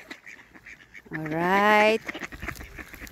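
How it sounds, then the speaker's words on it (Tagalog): Ducks being fed quack loudly in a short burst at close range, and a person talks before and after the burst. "Kain na ang mga pato."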